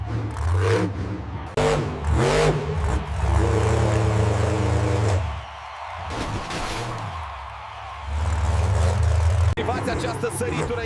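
Blue Thunder monster truck roaring through a ramp jump over five buses at a monster truck show: loud engine revs that surge and drop, with a brief lull mid-run before the roar returns, and voices over the top.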